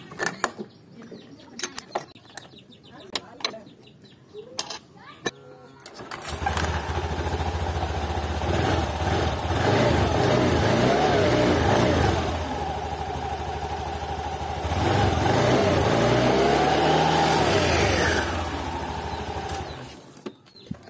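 A 2021 Honda Scoopy scooter fitted with upgraded racing rollers starts up after a few quiet seconds, then runs with a steady close engine drone and a louder rising rev near the end before easing off.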